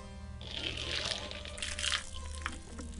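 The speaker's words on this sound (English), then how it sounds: "you got him to pour a beer" Beer poured from a tap at Parallel 49 Brewing, a steady splashing liquid pour running continuously for about three seconds, close and moderately loud, with a low hum of background noise.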